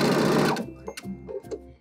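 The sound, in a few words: sewing machine zigzag stitching a sweater collar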